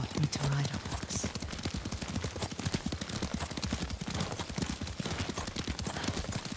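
Horse hooves clip-clop in a fast, steady galloping rhythm as a rider travels on horseback in the video game Ghost of Tsushima, with voices talking over the hoofbeats.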